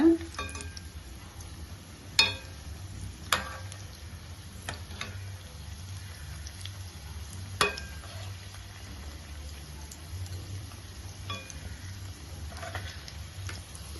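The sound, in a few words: paneer kola balls frying in oil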